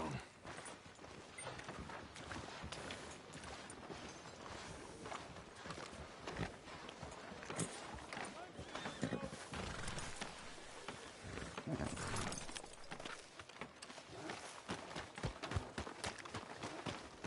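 Horse hooves clip-clop in the video game Red Dead Redemption 2, a quiet, continuous run of hoof beats on a street with faint ambient background and no talk.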